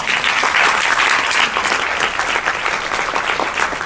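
An audience applauds after a student's vocal performance at a music concert: steady, dense clapping from a crowd, fairly loud and sustained throughout with no voices over it.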